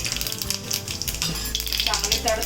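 Mustard seeds and cumin crackle and sizzle in hot oil on a griddle, a busy steady spluttering with scattered sharp pops, close and moderately loud, with no talk.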